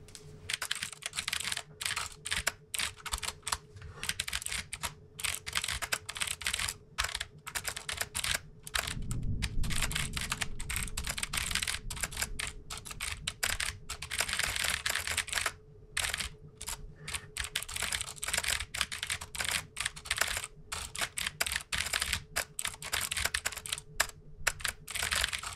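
Steady rapid typing on a computer keyboard while writing Arduino code for an LCD and OLED graphics project, close and continuous with irregular clicks and brief pauses, alone with a faint hum underneath.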